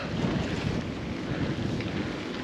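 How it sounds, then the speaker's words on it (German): Strong wind at a lake, buffeting the microphone in a constant broadband roar with no pauses, alone without any voices. "aber heute ist es extrem windig"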